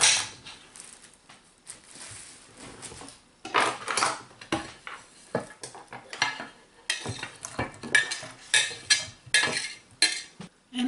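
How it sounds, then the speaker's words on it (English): A knife chops celery on a cutting board in a home kitchen, with irregular close, crisp knocks and crunches that speed into rapid clusters in the second half. "So I'm going to cut some celery here"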